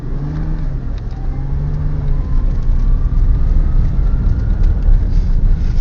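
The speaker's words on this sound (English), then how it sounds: "Listen to the shift." A GMC Envoy's engine revs hard and climbs in pitch, drops through a gear shift, then pulls again, loud and steady from inside the cab on an unpaved mountain road.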